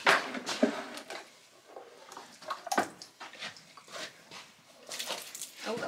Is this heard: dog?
yes